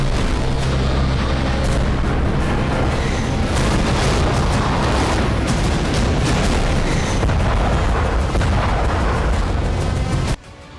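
Explosions and artillery shelling in the Nagorno-Karabakh war between Armenia and Azerbaijan, a dense, continuous roar of heavy booms and blasts that stays loud for about ten seconds before cutting off abruptly.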